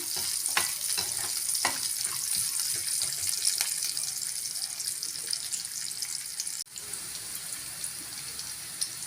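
Coconut pieces sautéing with cumin in a pan for raw banana varuval, giving a steady hiss of frying with faint stirring scrapes throughout, one brief break near the end, no talking.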